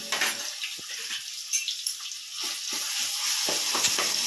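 Mutton bones frying in a pan with garlic paste give a steady, close hiss and crackle, with soft stirring scrapes breaking through now and then.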